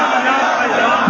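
A large crowd at a religious gathering shouting in unison in response to a slogan, a loud sustained roar of many voices, close and dense throughout the short burst.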